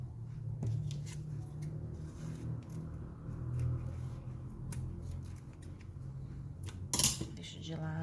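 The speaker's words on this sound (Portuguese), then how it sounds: "Então, eu vou cortar ele aqui." Scissors snipping through material for a handmade pencil case, with sparse close clicks and cuts over a low background hum and a sharper metallic snip near the end.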